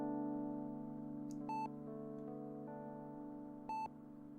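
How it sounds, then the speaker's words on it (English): Two short electronic beeps in the game The Last December, a couple of seconds apart, sound over a steady droning tone with some faint background noise. "I listen to the periodic beep sounds coming from my right."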